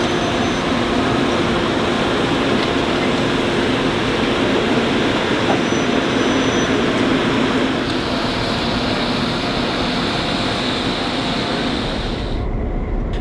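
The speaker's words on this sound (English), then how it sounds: "So this is actually pretty cool because they have 2 engine trains on this one" A two-engine passenger train rumbles steadily at close range, a continuous loud rolling and engine drone with no talk, fading slightly near the end.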